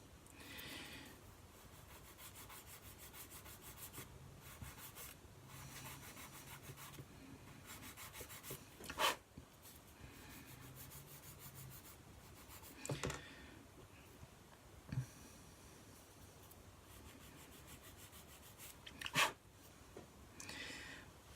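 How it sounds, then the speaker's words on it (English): Soft, continuous rubbing of sandpaper along the seams of a soft plastic Airfix 1/72 Hawker Siddeley Harrier GR.3 kit, faint and steady, with a few brief louder knocks scattered through. "The Airfix plastic is quite soft, so it sands really easily."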